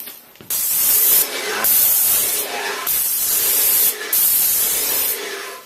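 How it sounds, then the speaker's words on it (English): A paint sprayer fires test bursts onto a piece of cardboard: several steady hissing sprays, each a second or so, separated by brief pauses, loud and close with no talking. "have a piece of cardboard handy, something that you can do a couple test sprays on"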